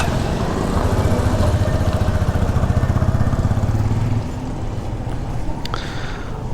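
A Bajaj CT 100B motorcycle engine catches and idles close by, a fast steady single-cylinder putter that drops slightly in level before settling.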